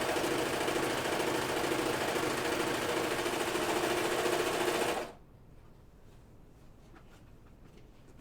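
A serger overlock sewing machine stitches fabric in a fast, loud, steady whir for about five seconds, then stops abruptly, leaving quiet room tone.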